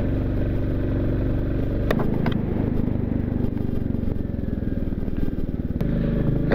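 A 350cc motorcycle labors up a snowy Himalayan mountain road near Bumla Pass in Arunachal Pradesh, its engine chugging loud and close with a steady rumble, with brief clattering knocks over rough ground.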